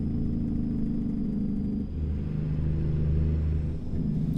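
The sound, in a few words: Kenworth W900 truck engine in American Truck Simulator video game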